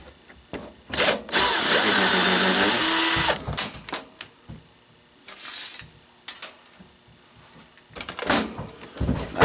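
A power drill backs screws out of the plastic recoil starter case of a blower, one sustained whine of about two seconds followed by shorter bursts, clicks and handling clatter close by.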